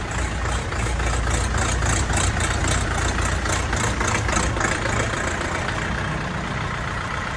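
A steady, low diesel tractor engine idles nearby with a constant rumble and a faint rhythmic ticking, running alone without voices.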